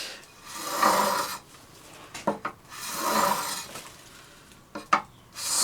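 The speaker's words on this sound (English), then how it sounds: "So with our leveling beam, we sand the frets" A leveling beam rasps back and forth across the frets of a Fender Telecaster neck, with two long sanding strokes broken by short clinks and taps, close and fairly loud.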